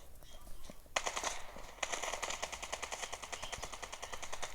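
Rapid automatic gunfire from a video game rattles in fast bursts, quiet overall, with a steady rhythmic clatter filling most of the clip.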